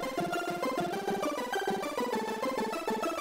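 Chip chirping synth sound playing a bouncy bass line with a bright, video-game character, stepping through a busy, continuous run of notes at moderate loudness with no voices.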